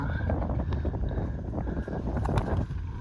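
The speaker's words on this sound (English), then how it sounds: "hope it's not too windy to hear me" Strong wind buffets the microphone on a hilltop above Port de Pollença, a loud continuous rumbling roar with gusty swells throughout.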